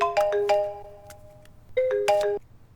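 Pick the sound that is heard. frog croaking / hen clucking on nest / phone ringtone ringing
phone ringtone ringing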